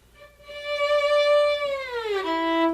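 A sustained bowed violin note from Kreisler's Liebesleid slides downward with too much finger pressure, giving a heavy, pressed tone, then settles on a lower pitch; loud and close, no talking.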